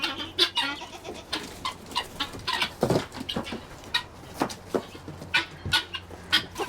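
Birds indoors squawking and clucking in a busy, irregular chorus of sharp calls, fairly close and moderately loud, with no talk.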